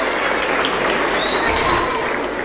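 A crowd applauds at a children's football season closing event, dense steady clapping filling the room for a couple of seconds, no voices standing out.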